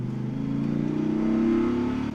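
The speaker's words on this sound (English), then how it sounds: "That V10 really roars." The 8.3-litre V10 Viper engine of a 2006 Dodge Ram SRT-10 pickup roars steadily while driving, a deep loud drone that rises in pitch and swells before easing off.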